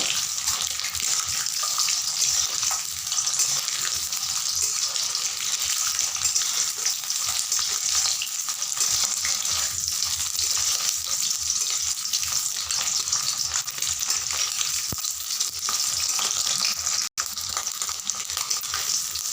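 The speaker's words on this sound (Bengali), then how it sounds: "সেই কারণে আমি ডিমগুলোকে নাড়া দিয়ে দিয়ে ভেজে নিব।" Eggs fry in hot oil in a pan for egg curry while being turned and stirred, a loud, dense, continuous close sizzle that runs steadily with only a brief break, no one speaking.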